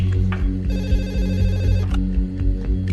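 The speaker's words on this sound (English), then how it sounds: "I got telephone call from the hospital." A telephone rings late at night, a senior hospital consultant being called in Bhopal in 1984, its bell tone loud and near in one sustained ring over a steady low hum.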